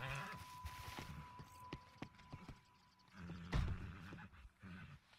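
A horse in Red Dead Redemption 2, with hoof clops and snorting sounds near the start and a heavier burst midway, against quiet game ambience.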